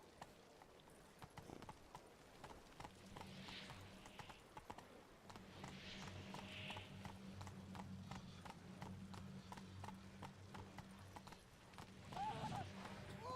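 Roach, a horse in a video game, trots with steady, rhythmic hoof clip-clops on hard ground, close and clear, and a soft snort rises near the end; a voice speaks over part of it.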